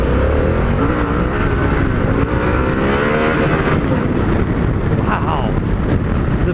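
A Harley-Davidson Pan America 1250 adventure motorcycle accelerates, its engine note climbing through the gears beneath heavy wind buffeting on the microphone, loud and close throughout.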